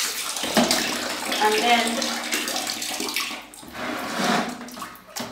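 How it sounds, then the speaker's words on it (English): Running water pours steadily from a tap for rinsing, a close, continuous splashing rush that swells and dips, with a person speaking briefly over it. "what you do is that you have to be rinsing that particular one off"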